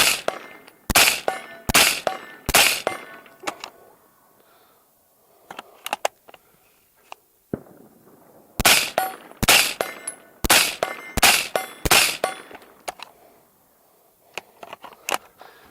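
An AR-15 rifle fitted with a VKTR VK-1 gas piston upper fires in rapid strings of sharp, loud cracks, with a pause of scattered quieter clicks between two volleys.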